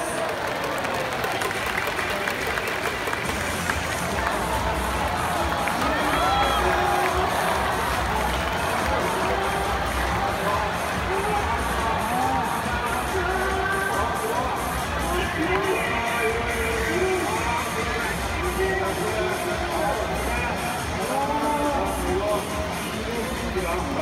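Stadium crowd at a Yokohama DeNA BayStars versus Hanshin Tigers baseball game, a constant roar of cheering and applause, distant and dense, with a voice on the public address speaking over it.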